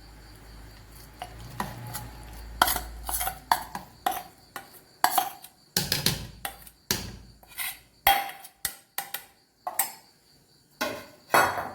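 Ground green chilli paste is stirred into adai dosa batter, a quick run of close, loud clinks and scrapes of a spoon against a bowl.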